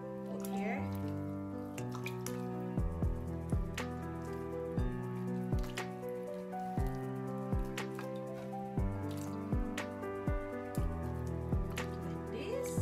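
Pork ribs being washed by hand in a bowl of water, with repeated sloshing, splashing and dripping in an irregular rhythm, close and moderately loud, while background music plays.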